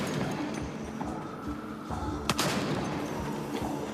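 Carbine gunfire in the VR video game Arizona Sunshine: a few sharp shots spread over a few seconds, with one louder crack standing out above a noisy background.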